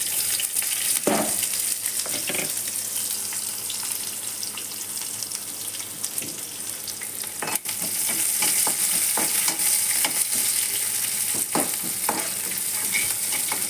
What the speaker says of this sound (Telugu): ఇవి బాగా ఫ్రై అవ్వాలి. వేగుతూ ఉన్న ఉల్లిపాయలలో మనం కొద్దిగా పసుపు వేసుకోవాలి.